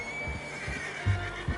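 A horse whinnies in Red Dead Redemption, a short near neigh over low ambient game sound, with a couple of soft hoof thuds and snorts at the end.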